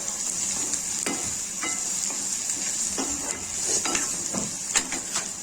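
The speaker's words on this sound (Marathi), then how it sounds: "हे पहा, कांदा आपला फ्राय होत आहे।" Chopped onion frying in a pan, a steady close sizzle running throughout, with faint stirring scrapes and clinks of a utensil against the pan at irregular moments.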